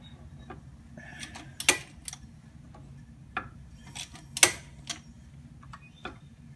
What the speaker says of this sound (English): I'm going to rotate the engine clockwise, and what it's going to do, it's going to move these rockers